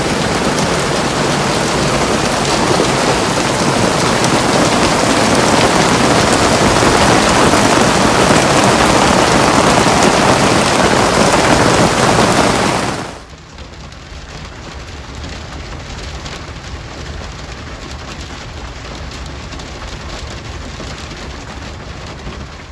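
Heavy storm rain pours in a dense, loud, steady roar for about thirteen seconds aboard a sailboat, then stops abruptly, leaving a much quieter background with a faint high tone.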